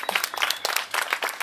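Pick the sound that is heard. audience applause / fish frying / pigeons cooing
audience applause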